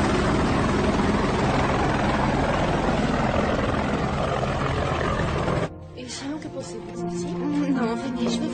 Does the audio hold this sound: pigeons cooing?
no